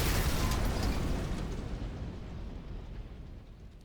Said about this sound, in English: The building shook with shockwaves. A loud roar broke out.